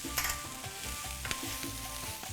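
Cumin and allspice sizzle in a hot pan while being stirred, giving a steady frying hiss broken by soft scraping strokes, close and with no talking.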